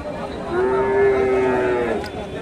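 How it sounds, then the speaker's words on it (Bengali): A Friesian bull at a busy cattle market in Bogura gives a single long, steady moo of about a second and a half, loud and close, over a constant murmur of crowd noise. "এখানে একটা দেখেন ফ্রিজিয়ান, মোটামুটি ভালো মানের ষাঁড়।"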